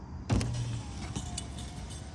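A car's electric power window slides down while the vehicle drives along a road, the short motor whine rising over a steady, loud rumble of road and engine noise, with no voices.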